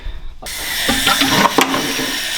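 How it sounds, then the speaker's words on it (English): After a moment of quiet, a bucket fills with plain water for cleaning a dirty caravan, a steady loud rushing hiss of running water from a tap, with faint splashing variations as it fills. "get our bucket, fill it up with only water"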